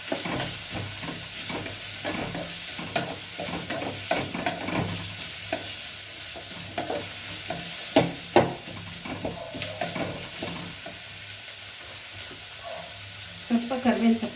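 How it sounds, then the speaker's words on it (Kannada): Onions sizzling steadily in a frying pan for upma while a spoon stirs and scrapes at an irregular rhythm, with sharp clicks of the utensil against the pan, close and moderately loud. "ಈರುಳ್ಳಿ ಹಾಕ್ತಾ ಇದ್ದೀನಿ"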